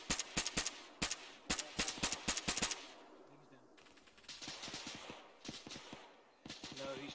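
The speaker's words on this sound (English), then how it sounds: "No, he's still shooting" Automatic weapon fire in ArmA 3 during a night operations team training mission, with fast repeated bursts of shots, a short pause, then more bursts, fairly close and sharp, over a faint background.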